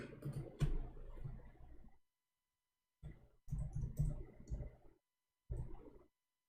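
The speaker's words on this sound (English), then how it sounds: "I will type it in front of you" Quick bursts of typing on a computer keyboard, close and fairly soft, come in separate runs of rapid clicks broken by silent pauses.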